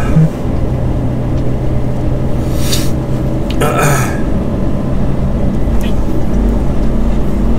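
A heavy truck engine rumbles steadily and close while the rig drives over to a semi-trailer, with a brief hiss and rattle partway through.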